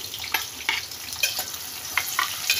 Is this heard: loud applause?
no